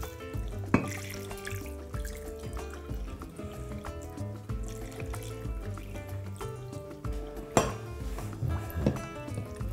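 Sauce pours over dolma packed in a pot under a plate, a soft liquid trickle with occasional clinks of metal and dishes, close by, fairly quiet, with music underneath and no talk.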